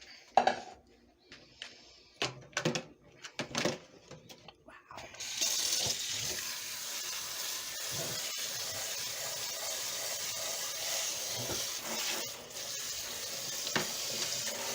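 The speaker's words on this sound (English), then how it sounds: "I'm going to pour a lot of cold water over that." Cold water pours from a kitchen tap over food in a sink, a steady hissing rush that starts after several seconds of clattering dishes and utensils and runs on continuously.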